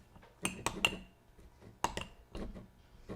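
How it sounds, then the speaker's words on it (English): A spoon scrapes and clinks against a bowl while mixing shaving cream into slime, giving a few sharp irregular taps and scrapes separated by short quiet gaps, close and moderately loud. "Now I'm going to take a spoon and mix the shaving cream into the slime."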